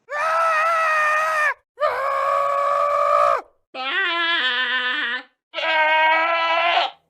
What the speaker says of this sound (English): enjoy another, I don't know, 5 minutes of screaming goats in the background